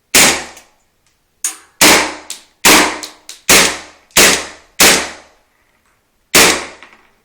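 A Beretta M9 airsoft pistol fires at a wooden box, about eight sharp, snapping shots in an uneven sequence with gaps between them, close and loud with quick decays.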